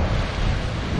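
Ocean waves at the black sand beach of Reynisfjara, Iceland, roar as a dense wash of surf mixed with heavy wind buffeting, loud and close for a brief moment.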